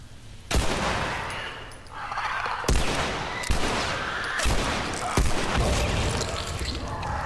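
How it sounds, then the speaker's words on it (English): Gunfire in The Last of Us Remastered, several sharp, loud shots in irregular succession, each a sudden blast followed by a short decaying rumble. "I shoot him in the head."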